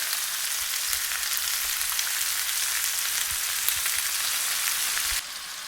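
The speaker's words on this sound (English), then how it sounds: "shrimps cook really fast, so you gently turn them along with the marinade and allow it to cook" Goan spicy prawns with raw mango marinade frying in a pan, a steady close hiss and sizzle with faint crackles throughout, easing slightly at the very end.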